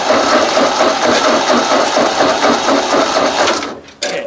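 A Ford 2N tractor engine runs steadily and loudly up close with a busy, rattling mechanical chatter, then briefly cuts out near the end before catching again.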